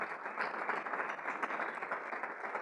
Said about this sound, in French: On l'applaudit, oui, on l'applaudit.